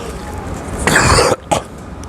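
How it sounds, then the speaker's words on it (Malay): A man coughs during a mosque sermon, one harsh burst followed by a second shorter cough, close and loud against a quiet room. "malah ni saya batuk sikit"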